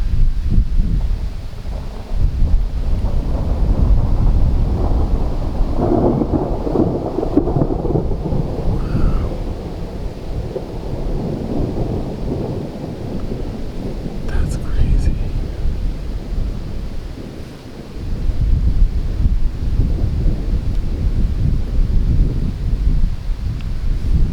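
Thunderstorm in open wilderness: continuous low rumbling thunder and gusting wind roar through most of the stretch, easing briefly near the middle and end, with faint voices now and then.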